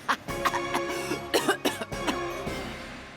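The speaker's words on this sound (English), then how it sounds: "You were doing so well, and then you just started coughing." A female character in the video game NIKKE: Goddess of Victory coughs repeatedly, a run of close, distinct coughs in an irregular rhythm with music or ambience underneath.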